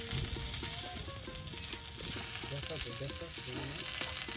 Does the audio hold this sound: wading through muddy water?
no